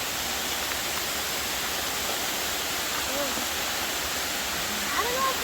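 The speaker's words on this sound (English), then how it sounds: "That's a waterfall" A waterfall along Hurricane Creek roars as a steady broadband rush heard from some distance, with faint voices talking briefly over it near the end.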